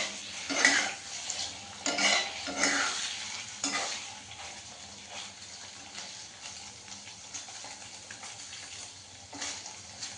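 Paneer fries in a hot pan, sizzling steadily while a utensil stirs and scrapes it in bursts, with light clinks of metal against the pan and no voices.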